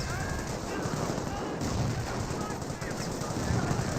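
Gunfire in the Company of Heroes video game, a rapid, continuous rattle of shots under a busy, noisy battle mix, with no clear separate bursts.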